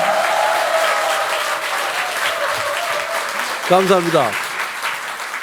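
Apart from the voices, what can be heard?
audience applause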